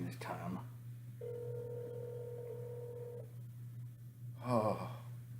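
A single long telephone ring tone sounds for about two seconds, clear but moderate, over a steady low hum, with brief breathy noises before and after it.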